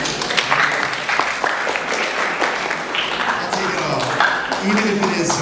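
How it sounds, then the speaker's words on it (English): A school assembly audience claps in a sustained, loosely synchronized patter that keeps going throughout, with a few scattered voices underneath. "good clapping, y'all"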